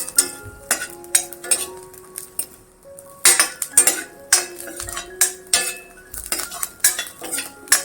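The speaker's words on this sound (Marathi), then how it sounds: "लसूण त्याच्यावर आपण भाजून घेऊया दोन मिनटं चांगलं परतून घ्यायचे आहेत" Garlic stirred and roasted in a pan for a coconut, sesame and flaxseed chutney, with a utensil clinking and scraping against the metal in irregular, fairly close strokes and no talk.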